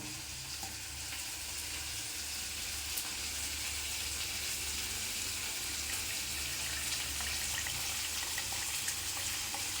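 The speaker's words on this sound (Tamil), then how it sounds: "இதில் நம்ம குழம்புக்கு தேவையான அளவு புளி இதில் வடிகட்டி எடுத்துக்க போகிறோம்" Dissolved tamarind water is strained for a kuzhambu, giving a steady, soft wet trickle and splash that runs on evenly and quietly, with no voices.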